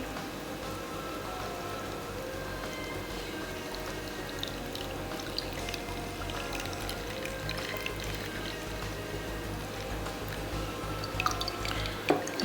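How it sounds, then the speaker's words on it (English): Moringa juice being strained through a sieve, liquid dripping and trickling steadily at close range with faint splashes, no talking. "So now is the time for us to sieve our moringa juice hairspray."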